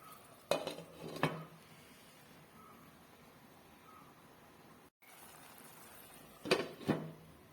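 A spoon scrapes and clinks against a metal pot of curry in two short bursts a few seconds apart, with a quiet hiss between.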